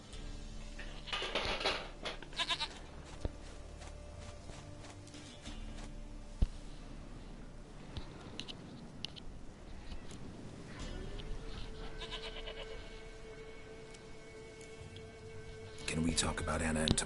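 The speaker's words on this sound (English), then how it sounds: "Goat of mine, dearest, sweetest goat." A goat bleats several times in the video game Witcher 3, short wavering calls mixed with game sounds and a character's speech, fairly quiet overall.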